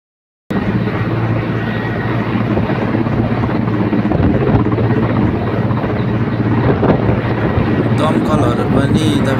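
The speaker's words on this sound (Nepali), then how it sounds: "हेलिकप्टरबाटै उद्धार हुँदैछ मान्छे।" A helicopter hovers over a burning building during a rescue, its heavy, continuous rotor and engine roar mixed with wind buffeting and crowd noise. Voices are faintly audible beneath the din.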